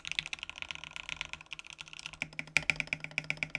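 Rapid clicky typing on a Satisfaction75 mechanical keyboard, close and crisp, a steady run of keystrokes that turns into distinct, evenly spaced taps with one louder key press near the end; no talking.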